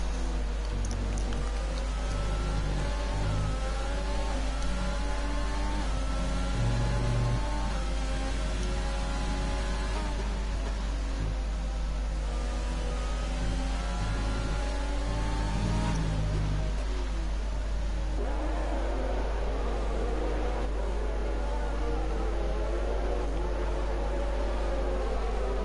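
Formula 1 cars from the racing game F1 2020 race along with a steady, continuous high engine whine and shifting pitch, droning on without pause under a constant low hum.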